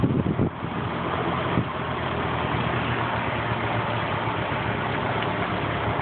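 A car engine runs steadily while driving, a continuous low rumble with road noise that stays even and fairly loud throughout, with a brief bump near the start and no talking.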